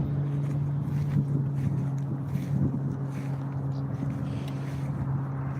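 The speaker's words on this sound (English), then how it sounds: "It's that power boat out there." A power boat runs out on the open water, its steady motor drone humming at a distance beneath wind buffeting the microphone, with a few faint voices in the background.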